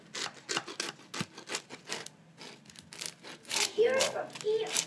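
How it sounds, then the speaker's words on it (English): Flaky Moroccan bastilla pastry being cut in Essaouira, giving a rapid series of crisp crunching and crackling bursts close by, with people talking over it. "Oh, that feels so good to cut it because you could feel all those flaky... layers of dough."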